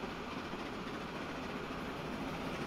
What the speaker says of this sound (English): Hey, there's the other train going back for a new load.